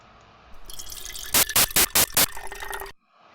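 Recorded water pours in a continuous stream whose pitch slowly falls, cut by five loud, evenly spaced bursts of broadband noise, then stops abruptly into near silence.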